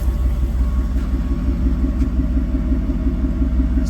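An off-road vehicle on TSL SX tires crawls slowly in double-low gear, its engine a steady, loud, close low rumble with a faint rhythmic pulsing throughout and no talk.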